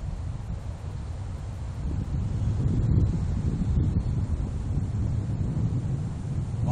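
Wind blows steadily outdoors around young puppies running off leash, a continuous low rushing buffeting across the microphone, swelling a little midway, with no one speaking.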